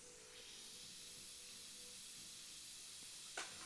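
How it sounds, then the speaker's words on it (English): An airbrush sprays day-old paint with a soft, steady hiss that runs faint and continuous, ending with a brief sharper burst. "So this paint that I have in the airbrush is a day old, so it's probably not spraying the best."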